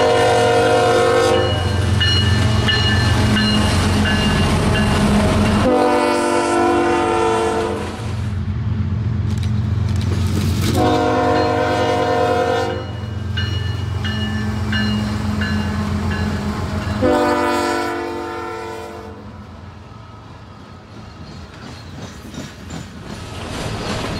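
CSX freight train led by a pair of Dash Eight locomotives rolls past close by, with repeated loud horn blasts over a steady rumble of the cars.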